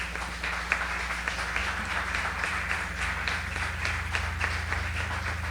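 A church congregation applauds in steady, dense clapping that holds evenly throughout, somewhat distant and moderate in level, with a low hum underneath.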